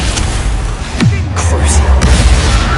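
A Bombarda blasting spell from Hogwarts Legacy goes off with a loud booming burst around the one-second mark, its low rumble sliding down and sustaining under continued combat noise and a second thump near two seconds.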